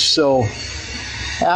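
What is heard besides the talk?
None of the usual background noises is heard.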